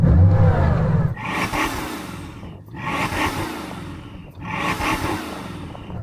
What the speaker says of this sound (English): So I'm going to rev up this 8-litre quad turbo 16-cylinder engine.